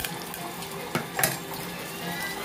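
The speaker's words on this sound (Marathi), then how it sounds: "आता टोपामध्ये आपल्याला कढीपत्ता टाकून घ्यायचा आहे, कढीपत्ता आपला छान तडकलेला आहे छान असा" Curry leaves crackle in hot oil in a pot, giving a soft sizzle with a couple of sharper pops near the middle and faint clinks of cookware.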